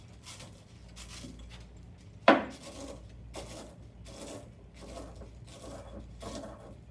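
A solid lab sample for iron analysis being ground up by hand, heard as steady rhythmic scraping strokes roughly once a second with one sharp clink partway through, close and fairly quiet.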